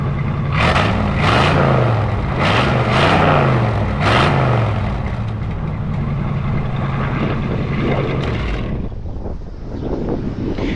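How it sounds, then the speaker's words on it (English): 1965 Mustang coupe with headers and GT dual trumpet exhaust idling outdoors on a windy day, a loud steady rumble with a few throttle blips near the start before settling back. "It's got the nice GT trumpet exhaust"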